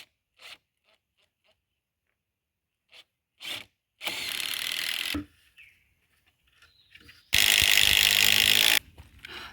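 A power drill drives screws into a garden bed frame in two sustained whirring bursts, close and loud, separated by a gap with scattered soft handling knocks and light rustling.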